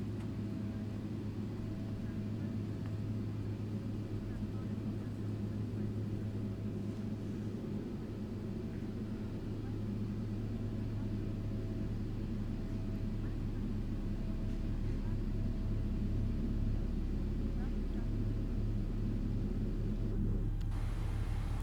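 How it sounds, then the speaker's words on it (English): Engine number 1 of a Boeing 777-300ER starting up in the X-Plane 12 flight simulator, a steady low cockpit rumble that swells into a deeper, louder roar as the turbine spools up over the final seconds. "so we can hear engine number 1 fire up"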